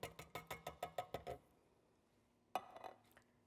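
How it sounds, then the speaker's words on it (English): A spoon clinks rhythmically against a pot while stirring beans in liquid for cabbage soup, about ten quick taps, then a pause and one more clatter, faint and close. "And kind of stir that all together."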